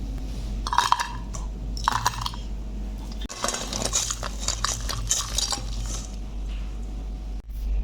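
A spoon stirs a jaggery katkoti mixture in a pan, with repeated metallic clinks and scrapes over a steady low hum, bursts of activity coming and going.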